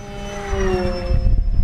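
An FMS Super EZ V4 1220mm RC model airplane rushes past fast and close, its whining motor tone sliding down in pitch over wind rumble as it goes by.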